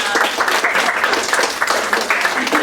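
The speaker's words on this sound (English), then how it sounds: "Give them a round of applause." An audience at an English songwriting workshop applauds steadily and fairly loudly for a couple of seconds, dense clapping from many hands with no break.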